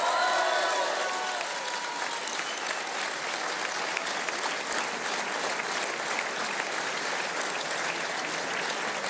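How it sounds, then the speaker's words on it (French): Dense, sustained applause from a large crowd at Emmanuel Macron's final 2022 presidential campaign rally, saluting farmers; steady and loud throughout, with a brief voice at the very start. "et vous pouvez les applaudir."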